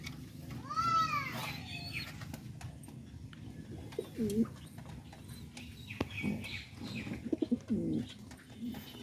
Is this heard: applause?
no